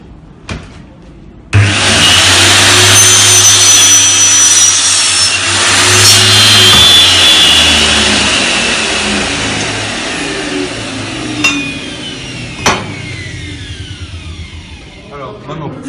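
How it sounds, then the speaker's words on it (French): A portable mitre saw spins up with a sharp start and cuts through a workpiece, a loud sustained whine that slowly winds down, followed by a few clicks and knocks. "Une fois que tout est bon, on peut commencer à scier."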